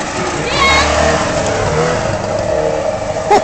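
A Trabant car engine revs and passes nearby with a buzzing two-stroke drone, while people talk loudly over it.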